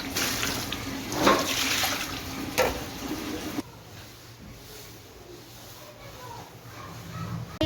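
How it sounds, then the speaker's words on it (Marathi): Water splashed across a kitchen balcony floor to wash it, a broad watery rush that is loud for the first few seconds, then drops to a faint trickle and drip with light background noise. "किचनच्या बाल्कनीमध्ये पाणी टाकून घ्यायचं धुवून फटाफट."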